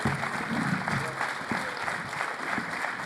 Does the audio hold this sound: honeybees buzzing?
no